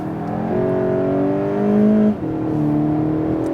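Engine of a Volkswagen Golf GTI 7 hatchback, steady and fairly loud, droning with rising tones before briefly cutting off and resuming at a slightly different pitch.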